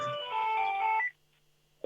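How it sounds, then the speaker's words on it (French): A mobile phone ringtone plays loudly as a steady melodic tone for about a second, then cuts off into near silence before a brief noise at the end. "c'était mon téléphone"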